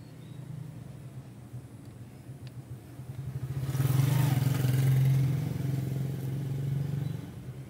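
A clothes dryer motor, its wire disconnected for a repair test, hums steadily and low. It swells louder for a few seconds in the middle before easing back to an even drone, with no voices.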